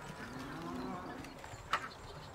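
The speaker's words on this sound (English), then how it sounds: "Did everyone else hear the cow" A cow moos in the video game Foundry, one drawn-out low call followed by a short sharp sound, fairly faint under quiet game ambience.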